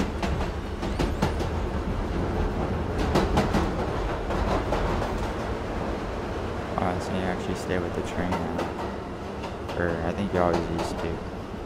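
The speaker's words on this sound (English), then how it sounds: "the train is actually so smooth than when it first came out" A train in the Roblox game Jailbreak rolls steadily along the tracks with a continuous low rumble and faint rhythmic clicks, while a person talks over it.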